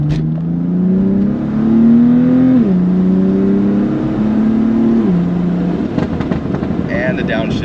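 BMW M4 with a titanium exhaust pulling hard through the gears, engine drone rising then dropping at each upshift, heard from inside the cabin with the window up, ending in pops and burbles.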